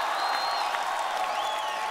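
Studio audience applauding and cheering at the close of a song on a televised singing competition stage, a dense steady wash of clapping with a few whistles, continuous and fairly loud for the whole stretch.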